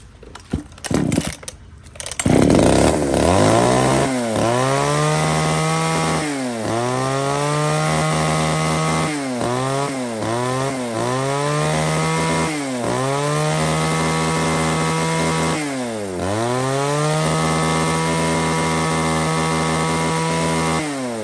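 A used Japanese-market chainsaw with a 30 cm bar and mini chain starts with a few pulls, then runs loud and close, its engine repeatedly revving up and dropping back in bursts with no talk.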